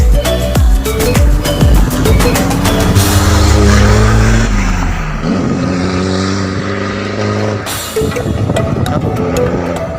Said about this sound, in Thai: ข้างทางก็จะมีเสียงรถหน่อย